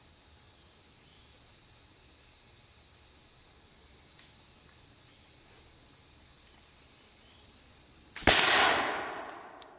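A flintlock musket loaded with buck and ball fires once in the woods near the end, a single sharp crack that decays into a fading rumble after several seconds of quiet outdoor hiss with a steady high insect drone.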